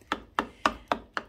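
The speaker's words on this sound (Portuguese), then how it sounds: "tem que ir picando assim com um talher mesmo" Cutlery chopping avocado for guacamole: five even, crisp taps against the bowl, about one every quarter second, close and fairly quiet.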